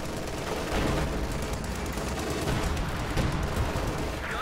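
Anti-tank guns firing in a World War II strategy game: a loud, unbroken barrage of gunfire, booms and rattling shots layered thickly together throughout.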